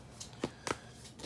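Quiet, brisk riffles of tarot cards being shuffled, a few short bursts close by with no talking.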